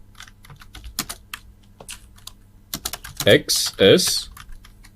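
Python code is typed on a computer keyboard: irregular, crisp key clicks in quick bursts, close by, with someone speaking Hindi over the later keystrokes.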